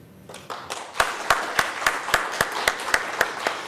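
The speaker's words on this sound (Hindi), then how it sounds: "हम लोग इसका आगाज तालियों के साथ और इस आशा के साथ कि हम कामयाब होंगे" Applause breaks out in a hall, building from a few scattered claps into steady, evenly spaced clapping, moderately loud and close.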